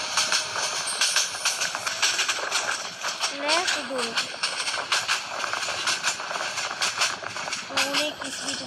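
A train runs in the Train Simulator Bangladesh video game, with a continuous rattling rumble and hiss overlaid by short rising voice-like tones, and someone talks over it.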